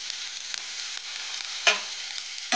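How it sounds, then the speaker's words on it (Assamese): Whole cumin seeds sizzle steadily in hot oil for a pumpkin and fish curry, a close, continuous hiss with a couple of brief louder spits. "গোটা জিৰা কেইটামান দি দিছোঁ।"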